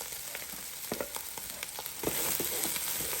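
A lobster dropped into rice frying in a Power XL electric cooker, giving a steady crackling sizzle with a few soft knocks and clatters as it goes in, and the sizzle swelling toward the end, with no talk.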